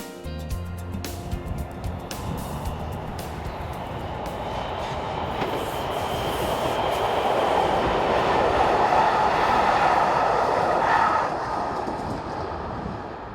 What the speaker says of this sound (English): it is AM96 unit number 549 that is seen leaving Huy station on its way to Liège